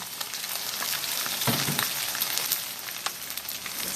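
Wide rice noodles stir-frying with chicken and fish balls in a hot pan, a steady close sizzle with scraping stirs and occasional louder spatula clatters.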